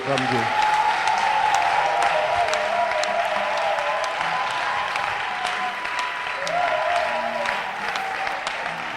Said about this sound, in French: Non, acclame Dieu encore. Acclame Dieu.